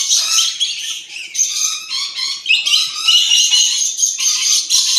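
Toucan calls in a bird park, a run of loud, harsh squawking bursts that repeat close by and almost without pause, with no talking.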